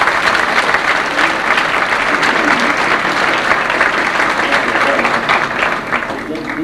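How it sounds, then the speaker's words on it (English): Sustained, loud applause from a large crowd at a band banquet, steady and dense throughout with no break. "give one big round of applause for this fine set of leadership"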